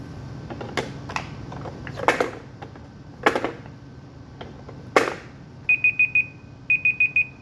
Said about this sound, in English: I'm going to put the timer on for 5 seconds.